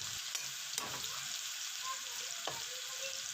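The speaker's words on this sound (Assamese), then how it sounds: "আটাইখিনি দি অলপমান হালধীয়া বৰণ নোহোৱালৈকে ভাজি থাকিম" Bay leaf, onions and herbs frying in oil for a pork gravy, giving a steady close sizzle with a few brief stirring scrapes and no talk.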